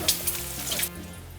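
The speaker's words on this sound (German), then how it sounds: "Den angerösteten Knoblauch gebe ich jetzt heraus und brate den Speck noch ein bisschen weiter." Bacon sizzles in a hot pan for spaghetti carbonara after toasted garlic has been taken out. The frying crackle is close and steady, with a few brief stirring bursts and no talk.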